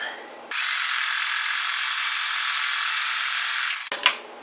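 A sewing machine stitching the corner of a raw-edge crazy quilt block runs in one steady, close mechanical whir for about three seconds, then stops with a brief clunk.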